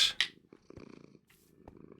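A cat purrs softly and steadily up close in a low rumbling rhythm, with a couple of brief rustling sounds at the start.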